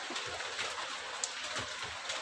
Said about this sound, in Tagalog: Nag-ulan og ice oh.